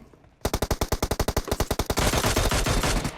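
A burst of M4 rifle fire in PUBG Mobile, a quick run of loud close shots in steady rhythm that merges into a dense, continuous roar of gunfire toward the end.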